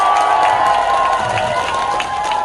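Audience at an outdoor concert in Korea applauding and cheering, a loud sustained wash of clapping and shouting voices from a large crowd, steady throughout.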